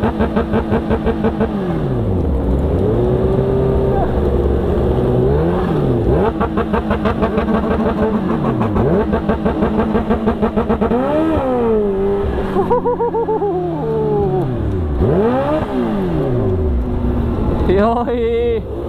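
A motorcycle engine revs repeatedly on the road during a street race with a Kawasaki Ninja H2, pitch climbing and falling in loud sweeps, with people talking and cheering over it.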